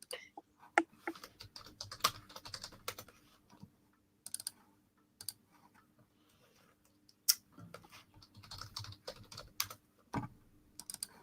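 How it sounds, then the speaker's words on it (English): Rapid typing on a computer keyboard, quiet clicking keystrokes in uneven bursts with brief pauses, heard close up. "I hear you typing up a storm over there."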